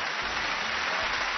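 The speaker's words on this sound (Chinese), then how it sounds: "来，我再次掌声送给老梁" Applause from a television variety show audience on stage, a brief steady wash of clapping heard on its own for just over a second.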